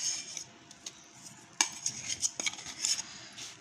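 Jaggery and coconut being stirred into ragi ladoo mixture, a spoon clinking and scraping against a metal bowl in a steady, close run of small taps and scrapes.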